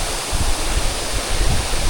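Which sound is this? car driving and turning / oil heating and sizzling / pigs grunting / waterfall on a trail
waterfall on a trail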